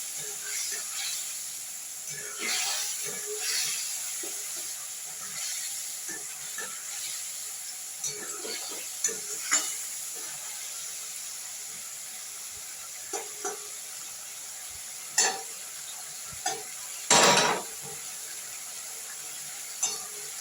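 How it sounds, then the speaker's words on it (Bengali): Spice paste stir-fried in a pan in a home kitchen, heard as a constant sizzling hiss with scattered scraping and stirring knocks, plus one louder burst near the end, while a person talks intermittently. "মশলাটা কষিয়ে একটু দিচ্ছি"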